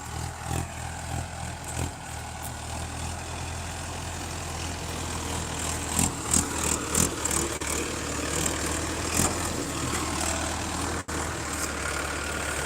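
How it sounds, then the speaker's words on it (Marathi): A sugarcane-hauling tractor stuck in a field furrow runs a steady, heavy low engine drone throughout, with irregular knocks and clatters over the idle, near and loud, and no talk. "ट्रॅक्टर आता ह्या सरीतून ओढायचं आहे"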